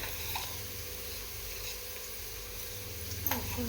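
Food frying in a pan with turmeric added for ghee chicken biryani: a quiet, steady sizzle with occasional soft stirring scrapes, heard close up.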